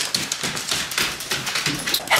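A chihuahua makes steady, close, fairly loud dog noises: whimpers and light yips repeat throughout over a busy, noisy background.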